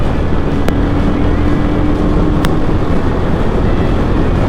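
A Royal Enfield motorcycle is ridden in fourth gear, its engine a steady loud drone blended with heavy wind rush over the microphone, constant throughout without breaks or speech.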